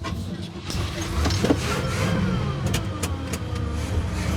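A 1968 Cadillac hearse rolls along with a low, rough engine rumble close by, steady throughout with a few light clicks and thumps from the moving seat.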